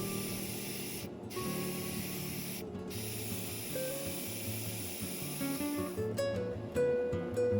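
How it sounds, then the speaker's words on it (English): A continuous hiss of metallic spray paint from an airbrush onto a scale model, broken by two short pauses, with a faint mechanical hum running underneath. "let's take a look at how these spray on an actual model"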